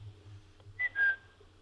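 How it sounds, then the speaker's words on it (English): A person gives a sheepdog command whistle: two short, sharp whistle notes, the second slightly longer and falling, close and clear over a faint low hum. "So go on, give us a whistle."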